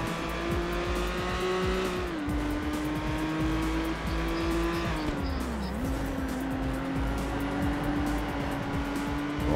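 Race car engine in the PS2 racing game Total Immersion Racing, a loud, continuous high-revving whine that drops in pitch with each upshift, with tire squeal and skidding mixed in.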